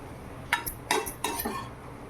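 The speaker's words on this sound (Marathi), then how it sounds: "असं हलवून घ्यायचं कोथंबीर पण टाकून द्यायची आणि व्यवस्थित मिक्स करायचं त्याला" Spoon scraping and clinking against a metal pot while chivda made from leftover chapatis, with coriander, is mixed; three or four short metallic scrapes come close together, each standing alone with no talk.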